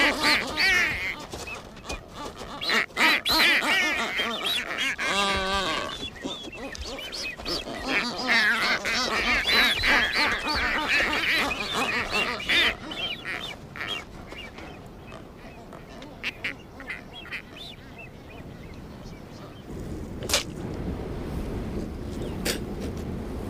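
Galapagos boobies at a breeding colony call over and over, a chorus of harsh, nasal honks and whistles, some close and some far, against steady outdoor noise.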